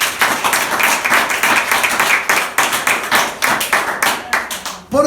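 A church congregation claps in applause for Christ during a sermon on the resurrection, a loud, sustained wash of many hands with dense, uneven rhythm that swells and carries on for several seconds.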